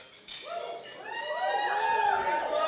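Glasses clink and ring during a wedding toast, several bright chimes with lingering tones that bend and overlap, heard over a murmuring crowd.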